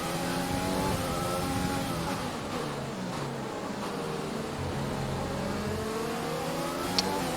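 F1 race car engine from the F1 2020 racing game at a Spanish circuit, a loud continuous high-revving whine that sweeps up and down in pitch through gear changes, heard alone without talk.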